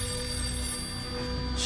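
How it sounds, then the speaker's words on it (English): A telephone rings at home, a continuous, fairly loud electronic ring with steady tones over low background rumble, no voices. "And that's when the phone rang."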